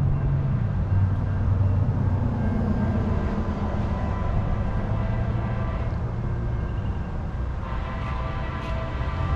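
An Amtrak Silver Star passenger train pulled by an ALC-42 locomotive rolls past southbound, a steady, continuous rumble of wheels and engine lasting several seconds.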